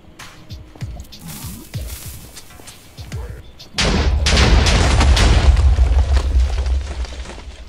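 Explosions blasting blocks in a block-building video game: after a few quieter thuds, a loud sustained burst of blast noise starts midway and rumbles on for several seconds.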